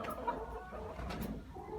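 A hen clucks softly in a coop, a few low calls close by over steady barn background noise.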